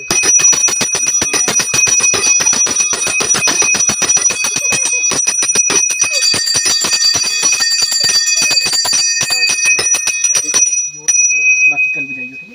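A temple bell at ShivDhank rung rapidly and repeatedly, loud and close, its bright metallic strikes running continuously for about eleven seconds before stopping, with voices talking underneath.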